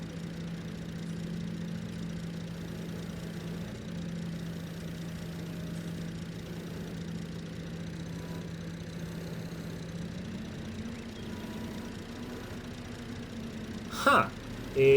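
Tractor engine idling in Farming Simulator 22 with the PTO shaft spinning, a steady low hum that rises slightly in pitch after about ten seconds, then a short clattering burst near the end, with no talking.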